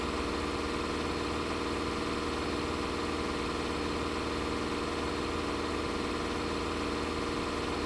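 A Ford tractor engine idles in Farming Simulator 25 as a steady, even mid-to-low drone with constant vibration, unchanging and alone with no voices.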